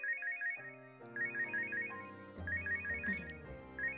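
An in-game phone in Robotics;Notes Elite plays a looping chiptune-like ringtone, a quick bright phrase repeating roughly every second over soft backing chords, with a few sharp clicks near the end and no speech.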